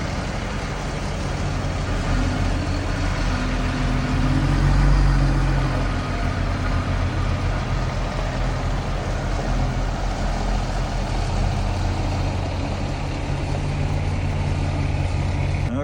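A truck with a low oil pressure problem, not yet at operating temperature, runs with a steady, heavy diesel rumble that swells briefly as it is given a little throttle, then settles back to a continuous near drone.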